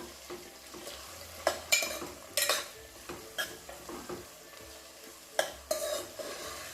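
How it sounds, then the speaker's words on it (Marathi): Onions and green chillies being stir-fried in oil for chicken biryani, giving a soft sizzle under a spatula that scrapes and knocks on the pan in irregular bursts, with no one speaking. "हिरवी मिरचीला पण आपण तेलामध्ये व्यवस्थित छान प्रकारे कांद्यासोबत परतून घेऊया"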